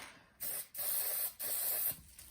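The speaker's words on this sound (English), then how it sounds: "Okay, I am going to spray." A spray paint can hisses in three bursts, each roughly half a second long, separated by brief pauses, close and steady.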